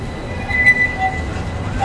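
A pink metro train in Istanbul rumbles past with a steady low roar and a faint high squeal from the wheels.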